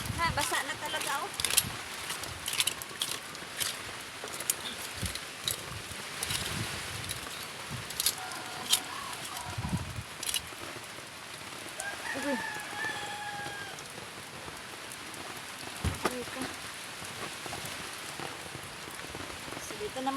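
Steady heavy rain drumming on a surface, with scattered louder drips and a rooster crowing faintly in the distance.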